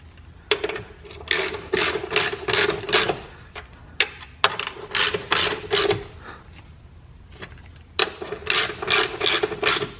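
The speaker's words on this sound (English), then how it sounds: "I'm gonna tighten all this stuff down." Ratchet wrench tightening bolts on a No Flex frame kit under a Corvette, heard as repeated bursts of rapid clicking, close and fairly loud, separated by brief pauses.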